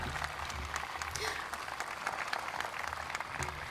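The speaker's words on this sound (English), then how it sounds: "Give her that big clap." Applause and cheering from an outdoor crowd at an Australia Day morning ceremony, steady clapping running for several seconds at moderate distance, with a voice calling out over it.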